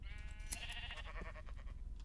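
Sheep bleating in a Christmas-themed video game, a single drawn-out wavering bleat with a bright tonal quality, heard alone at low volume.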